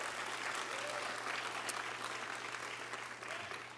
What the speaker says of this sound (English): So let's please give our amazing panel one more round of applause